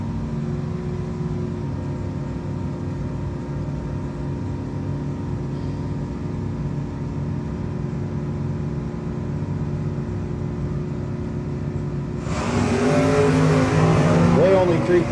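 Drag race at a no-box 660 event: a Dakota and a 1971 Mustang idle in a steady engine drone under an announcer's voice, then the engines roar loudly in a hard launch near the end.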